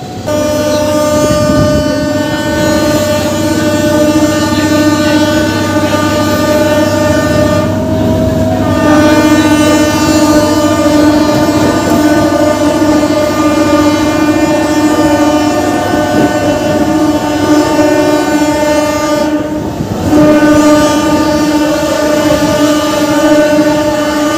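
Local train on the Howrah railway line at night, running loudly and close with a continuous droning rumble, and two long sustained horn blasts sounding over the track noise.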